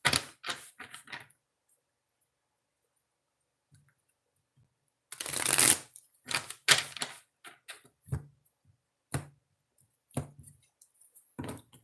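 Oracle cards are shuffled in two bursts, a short riffle of crisp clicks at the start and a louder riffle midway, followed by scattered taps and card snaps in an otherwise quiet room.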